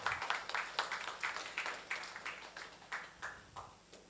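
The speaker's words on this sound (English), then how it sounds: "Okay, please give applause." An audience claps at a seminar on rural transformation, giving a steady run of applause that stays moderately loud and then tapers slightly toward the end.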